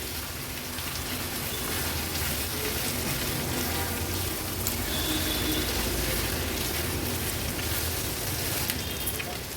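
Minced mutton kheema stir-fried hard with a spatula in oil over a high flame, a dense, steady sizzle and crackle that runs without a break from start to finish.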